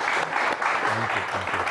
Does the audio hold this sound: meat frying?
no